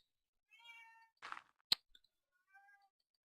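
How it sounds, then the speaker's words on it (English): Two short cat meows, quiet and close, separated by a brief rustle and a sharp click. "And my cat started meowing."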